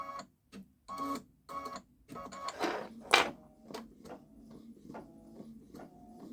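Babylock Solaris Vision embroidery machine stitching with no thread, a quiet, regular mechanical ticking and whirring in short bursts, with a brief rustle in the middle, no talk.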